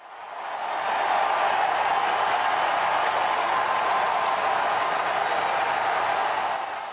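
A crowd of about 10,000 in St. Peter's Square applauds at a papal election, a dense, steady wash of clapping that swells in over the first second and holds unbroken, with no voices standing out.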